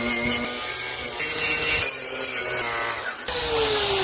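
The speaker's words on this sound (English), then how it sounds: "now it's time to hit the wire wheel." Power-driven wire wheel scrubbing rust off the metal window frame of a 1973 Dodge Dart, a steady loud abrasive whir with shifting grinding pitch throughout, no talking.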